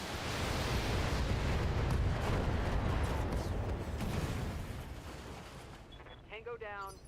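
Missile launches and explosions rumble in a BattleTech mech battle, a dense roar of blasts that fades toward the end, where a voice briefly speaks.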